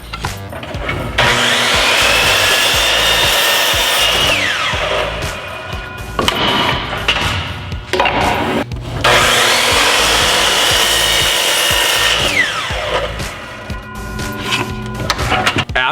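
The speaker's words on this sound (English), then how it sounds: "be sure that you cut these things accurately on the miter saw" A miter saw cuts wood for a bluebird birdhouse in two loud passes, each a sustained whining buzz of blade through board that winds down, with handling knocks in between.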